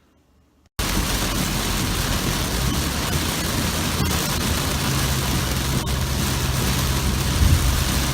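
Steady, heavy rain from a thunderstorm pours down continuously after a brief quiet start, a dense and loud downpour with a faint rumble of thunder near the end.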